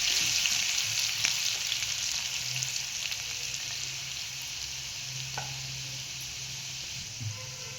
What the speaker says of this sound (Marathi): कलर येईपर्यंत आपण तळून घेऊया लसूण